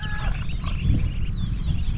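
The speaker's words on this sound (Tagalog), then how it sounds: "Dami na rin ditong pato at sisiw" Farmyard ducks and chicks call near the water, soft peeping and chirping over a low rumbling, wind-buffeted background.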